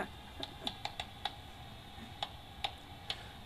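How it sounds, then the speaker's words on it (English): Bat echolocation picked up by an ultrasonic detector comes through as sharp, sparse clicks at irregular intervals, some in quick pairs, faint over a steady hiss. "So those clicking sounds that you're hearing right now is the bat echolocating."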